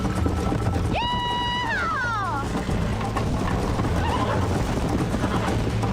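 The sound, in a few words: horse whinnying and bucking in video game Red Dead Redemption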